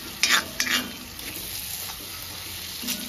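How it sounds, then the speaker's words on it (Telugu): Goat tripe (boti) curry being stirred in a thick-bottomed pan, a few close scraping strokes of the spoon over a steady low sizzle of frying. "ఇది బాగా కలిపుకోవాలి."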